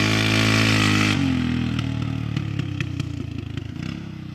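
A Yamaha quad bike's engine roars loudly at high revs, then drops to a rougher, pulsing, uneven running sound as the machine is pushed hard. It is close and continuous, with no talking.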